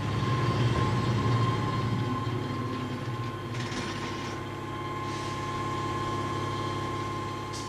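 A model train runs steadily on a diorama layout, giving a continuous mechanical rumble with faint rhythmic clicking and a thin steady whine, moderately quiet with no voices.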